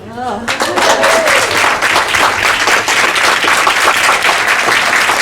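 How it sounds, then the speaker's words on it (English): Loud, sustained audience applause fills a Quantum Leap fan convention hall, dense clapping from a large crowd continuing steadily throughout, with a brief voice at the very start. "Give a nice round of applause for them."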